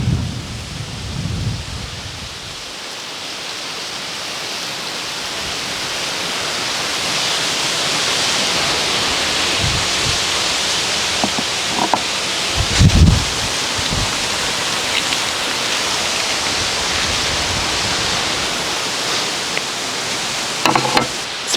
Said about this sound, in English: Pretty windy out here